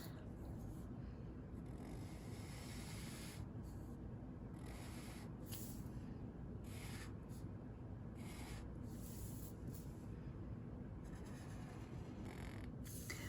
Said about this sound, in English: I'm going to go over all my doodles with the same marker.